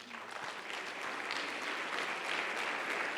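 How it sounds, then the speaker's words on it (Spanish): A church congregation at a Sunday sermon claps together in a steady, even wash of applause that holds at a constant level throughout, fairly distant and with no voices over it. "Dale un aplauso al Rey."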